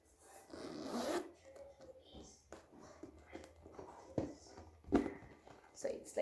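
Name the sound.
unzipping a Louis Vuitton Speedy 30 bag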